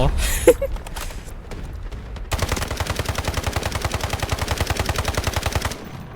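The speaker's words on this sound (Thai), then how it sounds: "นี่เมื่อกี้ยิงสุ่มดูนะทุกคน" Rapid automatic gunfire in Counter-Strike, a dense steady burst of evenly spaced shots running for several seconds after a few scattered single shots and clicks.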